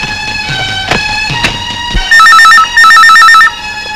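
A telephone rings loudly indoors in a Telugu comedy scene, with two sharp bursts of warbling electronic ringing after a few clicks and thuds.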